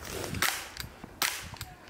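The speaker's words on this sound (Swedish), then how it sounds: "nu kommer det skott" Two sharp, loud gunshots about a second apart in the wilderness, each followed by a quieter echoing crack, over a faint background hiss.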